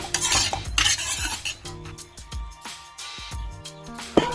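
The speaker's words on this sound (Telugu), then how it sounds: "ఎగ్ వేసేస్తున్నానండి ఎక్కువగా కలపకుండా కొంచెం లైట్గా కలిపి పెడదామండి" A spoon scrapes and stirs through egg and semiya upma in a metal pan, with repeated clinks and scrapes and a faint sizzle underneath, close and fairly loud.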